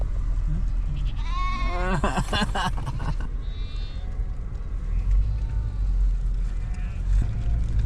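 Young goat kids bleat in Mongolia, a quick run of wavering, high cries rising out of a constant rough wind-like rumble, with people talking nearby.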